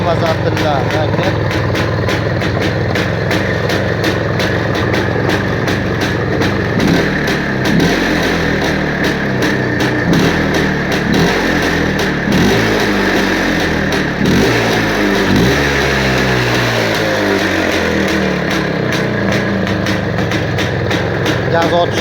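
A Planeta 5 motorcycle engine runs loud and close for the whole stretch, with repeated throttle blips that rise and fall over a steady mechanical idle, and someone speaks over it.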